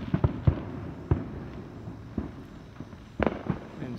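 Independence Day fireworks go off at a distance, a scattered series of muffled booms and cracks at irregular intervals, with a quick double burst toward the end over a faint outdoor background.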